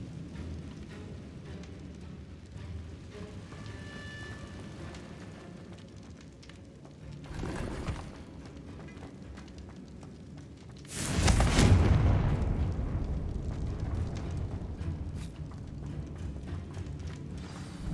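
A Confringo spell detonates in Hogwarts Legacy, one loud booming blast with a rushing crackle that fades slowly, preceded by a smaller burst and set over steady game ambience.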